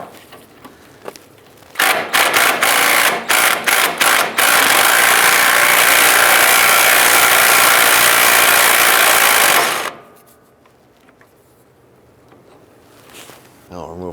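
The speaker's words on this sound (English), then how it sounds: "Now we're gonna go ahead and use an 18mm socket and remove this nut." An 18mm socket on a ratchet backs off a sway bar link nut on a 2004-2009 Dodge Durango, giving a loud, close, rapid mechanical rattle that starts in short bursts and then runs steadily for several seconds before stopping.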